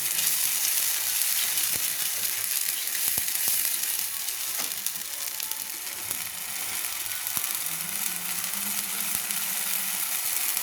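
Turmeric powder is stirred into frying egg kosha in a pan, giving a loud continuous sizzle with repeated scraping and clacking of the spoon against the pan, no talking.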